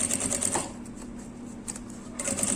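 A sewing machine runs a topstitch seam on a fabric essential-oil holder, humming at an even whir that eases in the middle and then speeds up again, close by with no talking.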